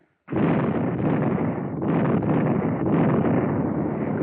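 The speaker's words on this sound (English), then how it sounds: "There goes Jerry's gun" A German artillery gun on the WWII Italian front fires, heard as a sustained, loud, broad roar and rumble that runs without a break for about four seconds, with no voices over it.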